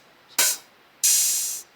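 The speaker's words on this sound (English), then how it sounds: "So when the hi-hat is open," Open hi-hat cymbal on a drum kit, struck twice: a short bright wash followed by a longer sustained sizzle of about half a second, both crisp and close with nothing else sounding.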